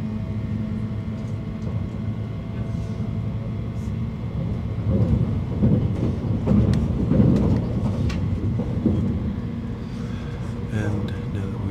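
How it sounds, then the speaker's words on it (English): A Hitachi Express train travelling from Tokyo to Ibaraki picks up speed, giving a continuous low rumble and rolling hum that swells slightly midway, heard from inside the carriage under a speaking voice. "the train is starting to pick up again"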